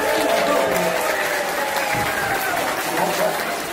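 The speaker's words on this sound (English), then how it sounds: "Give yourselves a big clap." Audience clapping at a Wiggles live show in Victoria, Vancouver Island, a loud dense wash of applause from a large crowd of families, with some voices and murmur mixed in.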